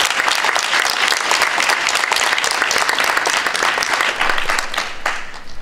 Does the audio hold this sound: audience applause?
yes